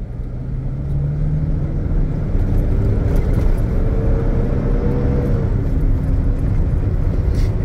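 A Toyota Hilux pickup launches in four-wheel drive on a dirt surface, its engine droning loudly and steadily as it pulls away, with a deep rumbling roar that rises slowly in pitch.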